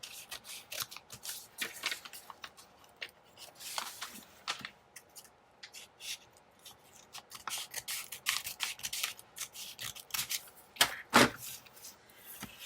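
Scissors snip through paper while trimming a journal page, with irregular close cuts and rustling handling sounds, sharper snips clustered toward the end.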